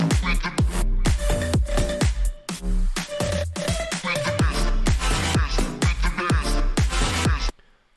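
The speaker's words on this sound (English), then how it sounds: "I like the bass sound overall in this first drop." An electronic dance track's first drop, loud and dense, with heavy punchy bass hits and a repeating bright synth figure on top. It cuts off sharply near the end.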